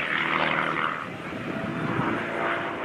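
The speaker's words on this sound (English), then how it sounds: "Approaching from the right again, there's a nice slow roll while flying down the center of the runway." A warbird airplane performs a slow roll down the runway at the Warbirds Over Monroe airshow, its engine a steady, moderately distant droning roar that swells and eases slightly over a few seconds.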